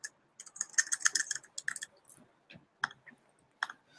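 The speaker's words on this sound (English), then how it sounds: "I'm typing it here anyway, and then I can simply go ahead and click" Quick clusters of light keystrokes and mouse clicks on a computer keyboard, close and crisp, with short pauses between bursts and no talk.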